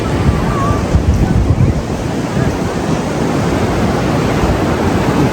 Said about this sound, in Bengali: উত্তাল সমুদ্র